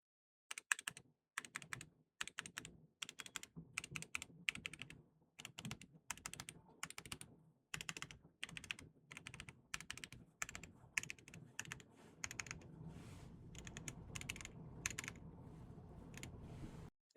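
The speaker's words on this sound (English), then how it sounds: "starting off with the normal keys, they're not too loud, but they do have some clickiness to them" Normal keys on an Aula 60HE keyboard typed in quick bursts of clicky, moderately quiet keystrokes, close up with short pauses between runs and no voices.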